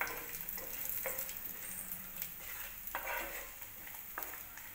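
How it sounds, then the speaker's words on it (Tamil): Cashews and almonds roasting in ghee in a pan for dates halwa, a soft, fairly faint sizzle broken by a few brief scraping stirs, with no one speaking. "இப்போ அந்த வந்து முந்திரி பருப்பையும் பாதாம் பருப்பையும் போட்டு நெய்ல நல்லா வறுத்துக்கலாம்"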